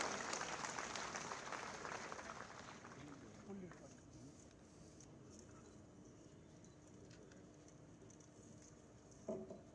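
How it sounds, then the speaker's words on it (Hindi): Applause from a student gathering at the inauguration of the student union president's office at Government Dungar College, Bikaner, loudest at the start and fading into quieter crowd murmur, with faint voices and a brief knock near the end. "तालियों के साथ इस युवा का स्वागत करें।"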